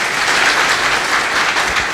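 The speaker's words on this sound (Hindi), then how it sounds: "तो तालियां बजाइए," An audience at a Home Guard group gathering in Varachha applauds, a continuous wash of clapping at even loudness with no talking.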